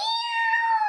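A person vocally imitates a radiator making a weird meow sound, producing a single drawn-out, cat-like meow held for under a second.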